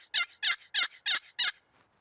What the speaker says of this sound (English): you got your typical box call for your traditionalists